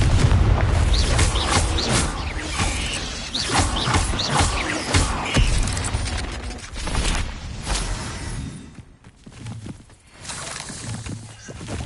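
Spell blasts erupt from the Confringo blasting spell in the video game Hogwarts Legacy, a loud, dense run of booming explosions and crackling bursts that fills the whole stretch and thins briefly near the end.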